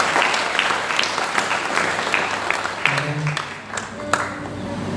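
An audience at a church worship service for a medical faculty breaks into applause, a dense, sustained wash of clapping that thins toward the end, with a few voices and a low tone underneath.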